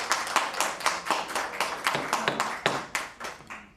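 Audience clapping at a town special commission meeting in Surfside, a steady run of sharp, close handclaps with an irregular rhythm that thins out toward the end; no voices.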